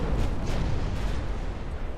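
A torpedo strikes a warship in the naval game Ultimate Admiral Dreadnoughts, giving a muffled, low rumbling explosion that swells and lingers as a dull roar for a couple of seconds.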